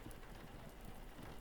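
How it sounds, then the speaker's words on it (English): Steady rain falls in a forest at night as an even, soft hiss with a faint low rumble of thunder underneath. "Do you like the rain?"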